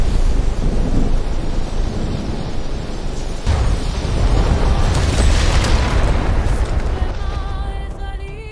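Cataclysmic storm explosion sound effect: a loud, rumbling boom with sustained roaring wind-like noise, a sharp impact partway through swelling into a bright crash before trailing off.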